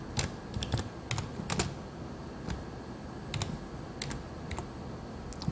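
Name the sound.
typing a group name on a computer keyboard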